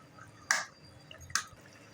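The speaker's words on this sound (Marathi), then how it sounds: "आता मी चार अंडी सोडते त्याच्यात" Two raw eggs cracked and dropped into egg masala gravy, each landing as a short, soft wet plop, quiet and close, spaced under a second apart.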